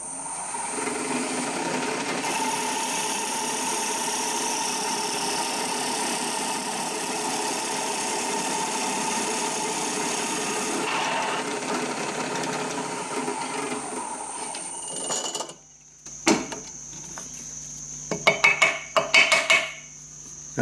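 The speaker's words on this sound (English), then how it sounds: "So I'm using a spade bit because they cut fast and you can drill deep with them." A power drill fitted with a 16mm spade bit bores a deep hole in wood, running as a loud, steady whirring grind for about fifteen seconds, then stopping and giving a few short bursts near the end.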